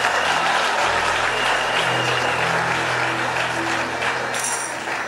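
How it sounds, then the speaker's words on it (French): An audience applauds a church choir with loud, steady clapping that fills the whole stretch without letting up. "Please give the Lord a big hand for them."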